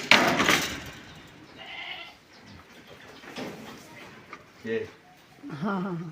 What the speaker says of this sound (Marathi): तिथे एक नवजात एक शिळी आहे तिची दोन कोकरं आहेत